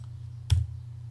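A single sharp press of the enter key on a computer keyboard, one short click against quiet background hum.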